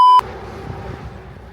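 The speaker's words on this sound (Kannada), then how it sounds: "ಇದೆಲ್ಲ ಬೀಪ್ ಹಾಕ್ಬಿಡಿ ಇದಕ್ಕೆಲ್ಲ" A loud, steady censor beep tone of about a fifth of a second cuts in at the start, dubbed over a road-trip conversation from Srinagar to Leh. It drops out abruptly to a low murmur of voices and vehicle background.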